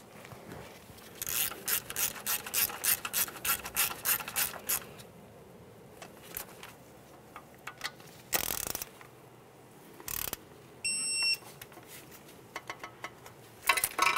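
Mounting bolt being tightened on an ABS wheel speed sensor of a 2012-2015 Honda Civic: a run of quick ratchet clicks, then scattered metallic handling noises and a few short sharp bursts, close and moderately loud with no talking.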